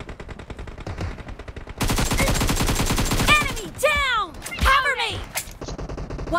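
Rapid gunfire in the BGMI mobile shooter on the Santorini team deathmatch map, a steady fast rattle of close shots joined by sweeping whistling effects and a few heavy thuds.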